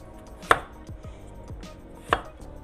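A kitchen knife cuts a brown spot off fresh ginger root, making two crisp, close chops against a cutting board about a second and a half apart, with light scraping between them.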